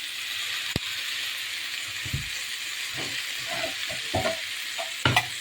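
Capsicum and potato dry fry sizzling in a pan, a steady hiss with a few scraping stirs and clatters toward the end, close up with no talk.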